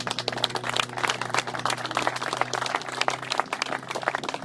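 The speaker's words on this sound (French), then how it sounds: "On peut les applaudir, bien entendu." Volunteers of the Golf d'Orléans-Limère, all sports association members, receive a burst of scattered hand clapping from a gathered crowd at the Grand Prix, steady and moderately loud throughout with no talking over it.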